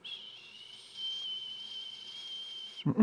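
A person imitates a whistle: a long, steady high-pitched whistle holds for nearly three seconds, then cuts off into a short burst of low rumbling noise.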